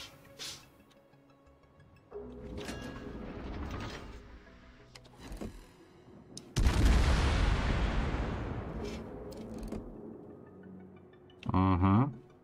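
Guns of the warship Gibraltar firing in World of Warships: a heavy, loud blast rolls out and slowly decays amid mechanical ticking and clunking game sounds, with a brief burst of noise near the end.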